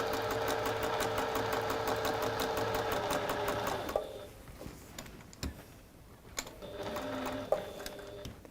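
A sewing machine stitching with a fast, steady mechanical whirr and ticking for about four seconds. After that come short bursts of a few stitches between pauses and faint handling clicks, all close and with no talk.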